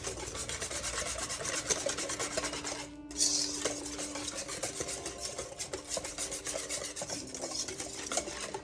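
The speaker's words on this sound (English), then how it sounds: "Stir it around." A spoon stirs brownie batter of melted butter and eggs in a bowl, a steady scraping and rubbing rhythm with soft clinks against the bowl, close and fairly quiet, with no talking.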